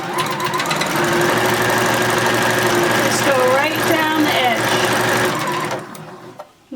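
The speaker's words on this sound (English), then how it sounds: "the next thing I'm going to do is sew down the casing for my elastic" A sewing machine runs fast and continuously, stitching down a fabric casing for elastic on a women's surgical cap, with a person talking over the steady mechanical chatter until it stops near the end.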